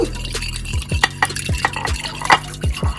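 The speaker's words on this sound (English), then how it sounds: "add it to that mixture, and we're going to stir that up" A spoon scrapes and clinks around a pan as bourbon sauce is stirred, giving a steady series of close, rhythmic strokes with soft liquid sloshing and no talking.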